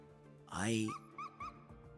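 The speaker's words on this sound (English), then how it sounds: "The frantic conversation hits a brick wall as the sheepdog's urgent barking grabs everyone's attention." A sheepdog in Punishing Gray Raven lets out one loud, urgent bark-like cry, followed by a few short, quieter chirping calls over a steady game background.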